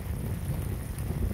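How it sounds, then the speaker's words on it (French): Wind gusts outdoors on a sunny day, buffeting the microphone with a low, rumbling, fluttering roar that stays loud and continuous through the brief stretch. "Le vent souffle."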